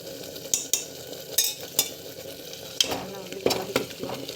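Chili powder and tomato puree sautéing in hot oil, with a steady sizzle broken by repeated scrapes and clinks of a stirring spoon against the pan, close and clear with no talk.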